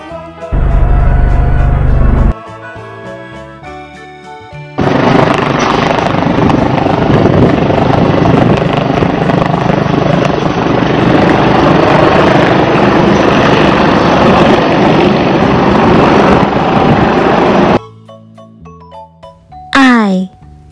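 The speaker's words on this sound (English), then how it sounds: "helicopter" A helicopter gives a loud, steady rotor-and-engine drone that lasts about thirteen seconds. Brief chiming musical tones come before and after it.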